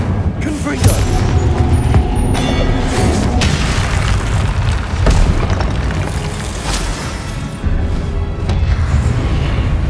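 Repeated Confringo spell explosions from the Hogwarts Legacy video game during Percival Rackham's Trial, loud booming blasts in quick succession over a dense, continuous roar of combat effects, with voices shouting spell names.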